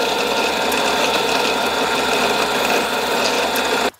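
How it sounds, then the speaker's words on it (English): An electric drill fitted with a 4mm bit whirs steadily and loudly with a rapid, rattling buzz throughout, stopping abruptly at the very end. "Let's first drill these four holes with a 4mm drill."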